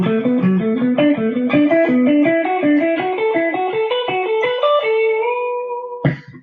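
Electric guitar through an effects unit plays a rapid ascending run of four-note semiquaver groups in a rock improvisation style, clear and alone, ending on a sustained note and a brief strum.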